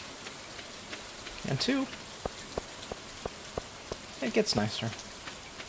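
Rain in Stardew Valley falls as a soft, even hiss, with a light patter of drops running under a voice talking.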